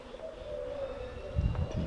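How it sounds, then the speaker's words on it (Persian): Pigeons coo and other birds call in Meersburg, a lakeside town on Lake Constance, the soft cooing steady and fairly close against a low outdoor background. "صدای پرنده ها رو که میشنوین"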